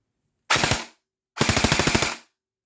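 An airsoft DSG M4 rifle fires without motor whine: a short burst of rapid, crisp reports, a pause, then a longer burst of about nine evenly spaced shots, close and clear against silence.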